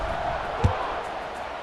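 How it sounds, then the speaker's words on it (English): Stadium crowd ambience from the video game EA Sports College Football 26: a steady, moderately faint murmur of fans that holds throughout, with one brief low thump partway in. "this crowd is buzzing after that last score"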